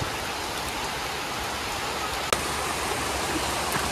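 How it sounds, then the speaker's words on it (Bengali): Steady rain pours outside onto a tin roof in rural Bangladesh, a broad continuous wash of falling water with one sharp knock midway and faint drips, heard alone without voices. "ভালো বৃষ্টি হইতেছে বাইরে।"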